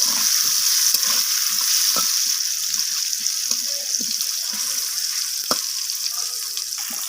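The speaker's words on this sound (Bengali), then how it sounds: "ওলকপিটাকে আমি আলুর মতো করে আবারও ভেজে নেব" Kohlrabi fries in oil in a pan, sizzling and crackling loudly, a bright continuous hiss with scattered taps and stirring sounds, no talking.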